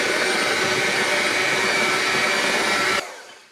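An electric mixer runs loud and steady through red velvet cookie dough with chocolate chips, a constant close whir that stops abruptly near the end and trails off, with no talk.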